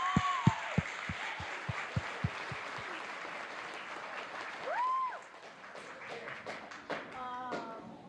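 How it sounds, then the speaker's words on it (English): An audience claps at a community cultural-sharing event in Happy Valley-Goose Bay. A few sharp, close hand claps lead off over a broad wash of crowd applause, which fades into a murmuring room. "Can we have another round of applause for Marshall Harding and Aiden Wheeler?"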